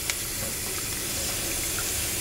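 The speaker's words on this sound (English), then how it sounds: "First thing we wanna do is fill the bowl with cold water." Cold tap water pours into a large kitchen bowl with a continuous close, splashing rush that stays even throughout.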